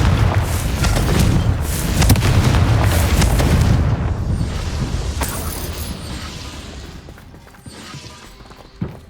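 A Confringo fire spell explodes in Hogwarts Legacy: a loud, heavy booming blast with rumbling debris that rolls on for several seconds, then fades to quieter ambience with a small pop near the end.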